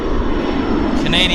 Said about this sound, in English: Falcon 50 on the roll. Very heavy corporate iron.